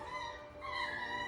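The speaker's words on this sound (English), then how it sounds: "I don't know if you can hear the other puppy crying." A puppy in a crate whimpers and cries in a thin, wavering, high-pitched whine, faint and somewhat distant, held continuously for a moment.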